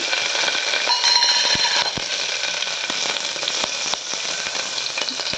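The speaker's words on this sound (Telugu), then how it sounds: "నెయ్యి బాగా వేడెక్కాక పచ్చిమిర్చి, కరివేపాకు, క్యాషు," Green chillies, curry leaves and cashews fry in hot ghee, giving a steady, close, dense sizzle with scattered sharp pops and crackles throughout.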